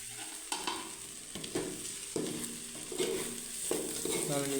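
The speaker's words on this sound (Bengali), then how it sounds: "গরম হয়ে গেছে, একবার নেড়ে দিতে হবে, না নিচে লেগে যাবে।" Food frying in a hot pot while being stirred, with steady sizzling broken by repeated scraping strokes roughly every second, close and fairly loud, with no talking.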